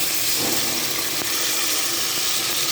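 Water pours loudly and steadily into a pot holding half a kilo of mutton with green chillies, a continuous close rushing splash lasting a few seconds.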